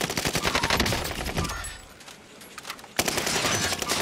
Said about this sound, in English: Oh, from the right side, they're getting shot too.